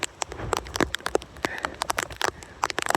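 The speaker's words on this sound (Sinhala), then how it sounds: "මේ වහිනවා එකම ගානට වහිනවා මේ මොර සූරන වැස්ස" Heavy rain pouring down in dense forest on an off-season Sripada hike, dripping in sharp, irregular close splats and drops over a steady wash, with no talk.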